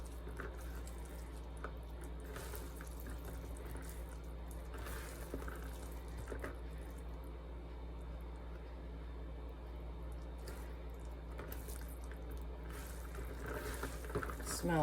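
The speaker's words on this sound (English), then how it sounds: "I'm gonna wash my hands" Running tap water splashes steadily into a sink while hands are washed, a continuous hiss broken by small sloshes and clicks, with faint background hum.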